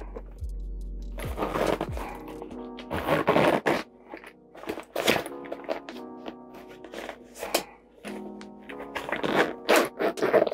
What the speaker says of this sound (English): So let's see how this will zip up.